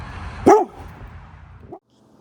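A seven-year-old Bernedoodle of about 60 pounds gives one loud, close bark, followed by a short, softer whine a second later, with no talk.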